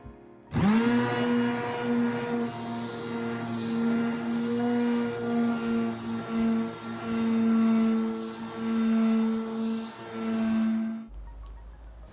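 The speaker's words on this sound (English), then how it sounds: "So I'm first going to start by sanding out all of the scratches." A power sander hums steadily and loudly as it works scratches out of a wooden cutting board, starting abruptly, droning with slight pitch wobble for about ten seconds, then cutting off.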